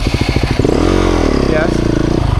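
A motorcycle struggling on soggy, muddy ground at a rainy motorcycle festival, its engine chugging in pulses and then revving loud and close as the rear wheel spins, with a rider's voice over it.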